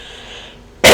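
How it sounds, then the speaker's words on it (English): A single sharp cough bursts out loudly at the very end after near silence, close to the microphone. "I don't know if I get a cough or if that's just a nervous thing"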